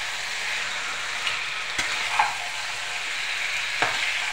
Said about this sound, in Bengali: সব মাংসটা আমি দিলাম, দিয়ে এবার নাড়তে থাকছি।